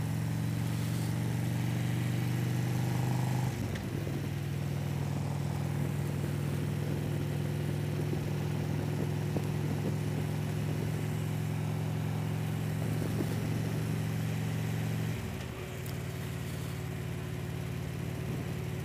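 Motorcycle engine running steadily in foggy weather, a loud, continuous low drone close by with a small dip and change in pitch near the end, no talking.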